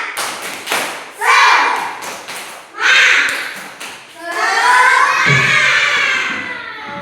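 A primary school class doing a rhythmic spirit-clapping chant: groups of sharp, close claps in sets, with children's voices shouting along, ending in a longer burst of crowd noise.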